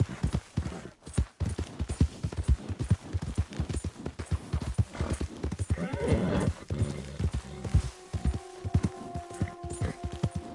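Horse hooves clip-clop steadily at a gallop in Red Dead Redemption 2, with a neigh and whinny rising near the middle, loud and close throughout.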